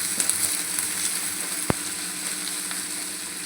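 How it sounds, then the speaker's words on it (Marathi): Chopped onion sizzles steadily in hot oil in a pan while cooking a prawns masala, with a constant crackling hiss throughout and one brief sharp click near the middle. "आता आपण कांदा घालूया. कांदा चांगला आपण फ्राय करूया व्यवस्थित."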